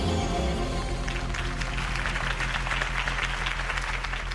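A crowd applauds steadily and continuously at a campaign speech in a Batman video game, a dense wash of clapping over a low musical drone.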